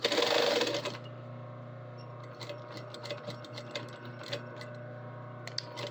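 Sewing machine stitching a seam on a bag, a brief loud run of rapid stitching at the start, then a low steady hum with light intermittent ticks and clicks, no talk.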